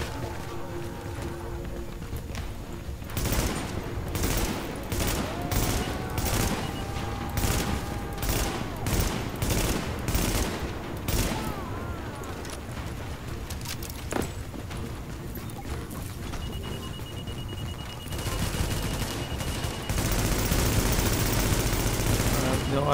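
Rapid gunfire bursts and weapon shots from the online shooter game The Division fill the scene, dense and continuous with booms and effects, while players talk over the action.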